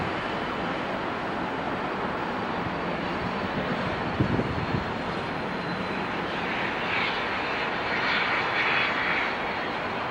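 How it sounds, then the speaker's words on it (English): A Cessna Citation business jet lands at Dulles airport, its engines making a steady, full roar that holds at even loudness for about ten seconds, swelling slightly near the end, with no voices. "Cessna Citation. A beautiful landing."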